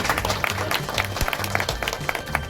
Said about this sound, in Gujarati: આપણે 3 તાળીઓના